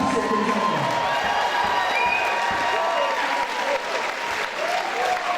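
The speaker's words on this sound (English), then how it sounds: "can we please have a massive round of applause for Joao Silva, all the way from Portugal, a fantastic contender" Spectators at a Contenders boxing night in Norwich applaud and cheer a Portuguese fighter, sustained clapping mixed with whoops and shouts from a large crowd.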